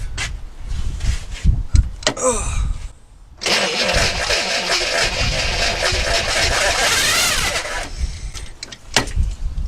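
A 1964 Chevrolet Impala engine that had sat for 40 years cranks with uneven chugging, then roars to life loudly for several seconds before cutting out and sputtering again.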